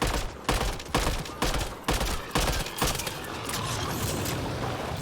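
Rapid bursts of gunfire from Mass Effect Andromeda crack out close and loud, about seven sharp volleys in quick rhythm before settling into a sustained rumbling din.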